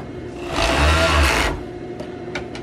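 A sewing machine stitches a tapered seam along a t-shirt side under the arm, one close burst of motor whir lasting about a second, followed by a few faint clicks.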